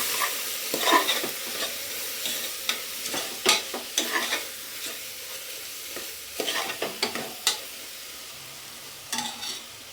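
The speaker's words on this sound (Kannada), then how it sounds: "ಇದನ್ನು ಎಣ್ಣೆ ಚೆನ್ನಾಗಿ ಬಾಡ್ಸೋಣ." Ingredients sauté in oil in a pan while a spoon stirs and scrapes repeatedly, giving irregular close clatters and scraping bursts over a light background sizzle.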